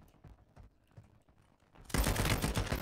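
A sudden loud burst of continuous automatic gunfire from the mobile battle royale shooter Warzone Mobile, cutting in abruptly after quiet, faint tapping.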